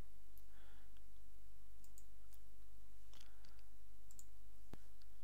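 A handful of sparse computer mouse clicks while adjusting settings on a PC, short crisp ticks spaced irregularly over a constant low electrical hum, with no one talking.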